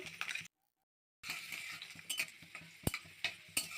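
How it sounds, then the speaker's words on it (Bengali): Chopped garlic sizzling in hot oil in a cleaned kadai, a steady close crackle that drops out briefly and then resumes, with a single sharp utensil clink partway through. "তেল গরম করে অল্প রসুন কুচনো দিলাম।"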